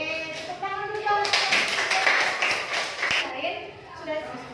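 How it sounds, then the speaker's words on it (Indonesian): A classroom of children breaks into a short burst of rapid, crisp hand clapping, with a teacher's voice talking just before and after it. "Yeay, tepuk tangan dulu dong."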